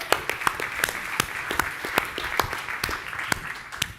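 An audience at a public speaking masterclass gives sparse, moderately distant applause, with individual claps popping out irregularly over a soft room murmur.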